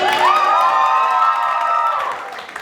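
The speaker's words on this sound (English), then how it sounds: "Can we have another round of applause, please?" A festival audience breaks into a loud cheer with a rising whoop over scattered clapping, holding for about two seconds before fading into quieter crowd noise.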